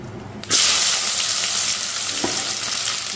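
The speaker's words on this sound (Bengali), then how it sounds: "পেঁয়াজগুলো ছেড়ে দেবো" Onions drop into hot oil for a mutton curry and burst into a loud, bright sizzle that holds steady, with a couple of soft knocks from stirring partway through and no one talking.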